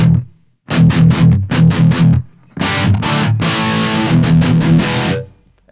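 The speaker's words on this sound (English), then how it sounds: "Now if you obviously mute the reverb, that'll just take it to like that dry studio." An electric guitar played through a Donner Arena 2000 multi-effects unit with reverb muted rings out in loud, dry distorted chords, a few quick strums then a longer sustained passage, close and without talk.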